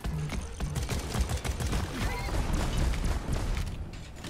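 Sentry turret gunfire in Deep Rock Galactic rattles in a dense continuous burst, rapid overlapping shots and impacts blending with other combat noise at moderate loudness throughout.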